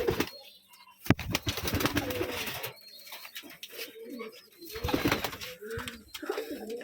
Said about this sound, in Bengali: এই যে সবচেয়ে পছন্দের কবুতর